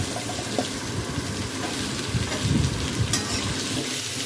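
Potato pieces fry in a pan for a Bengali shukto while being stirred, a dense, close, steady sizzle with soft scraping and shuffling, no voices.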